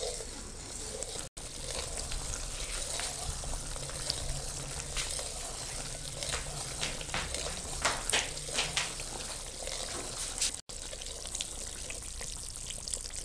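A spoon is stirred nonstop through sugar syrup boiling down to one-thread consistency with oil in a pan for a maida milk halwa. It makes a steady close bubbling hiss with scattered scraping clicks throughout.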